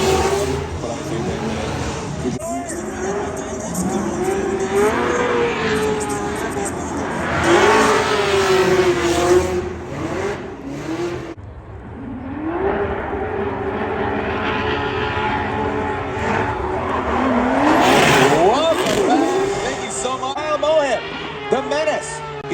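Formula Drift race cars drifting at the 2022 Long Beach Grand Prix, engines revving and wailing in long rising and falling sweeps, loud and close at times, with a voice talking over them.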